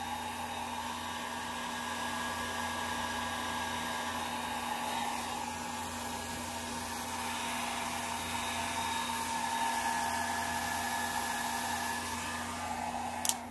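Airbrush blowing air across alcohol ink to shape a cone flower painting, a steady, even hiss that runs without a break throughout, with a faint steady hum beneath and a brief knock at the very end.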